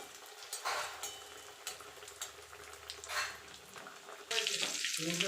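Chicken cutlets fry in a pan in a home kitchen, giving a steady sizzle with brief bursts of louder crackling and a sharper, stronger sizzle near the end.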